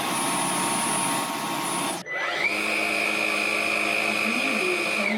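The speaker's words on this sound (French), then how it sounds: "On entend quand même un gros bruit d'aspiration sur le Dyson qu'on n'entend pas sur le Xiaomi." A cordless stick vacuum, a Xiaomi G9 or a Dyson, runs at medium power with a steady roaring whine; the motor dips briefly midway, then returns with a higher, slightly different tone that holds continuously.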